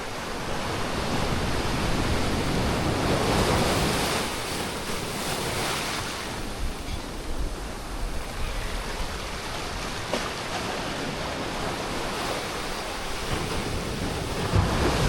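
Ocean waves wash continuously onto a beach at Playa del Carmen, a loud, steady roar of surf with gusts of wind buffeting the microphone and no talking.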